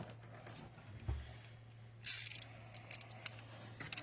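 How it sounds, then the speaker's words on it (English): A ratchet snugs down the exhaust manifold mounting bolts on a big-block engine, with a low hum, a brief clunk, then a sharp burst of clicks followed by several quieter scattered clicks, close by. "I'm not even using the full handle of the ratchet to tighten it."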